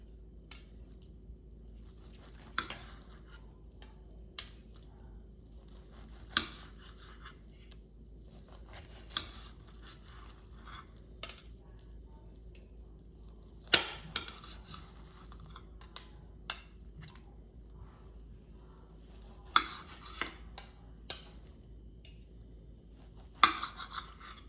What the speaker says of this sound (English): Let me slice it and see what's inside.